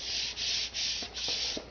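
Steady hand sanding of a fiberglass R/C model cowl, long scraping strokes that rise and fall in rhythm, close and continuous, pausing briefly between passes.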